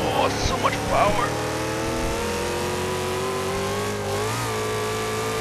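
A huge old muscle car in insane power mode in Forza Horizon 2 roars with a steady high engine whine that rises and dips, while someone talks over it early on.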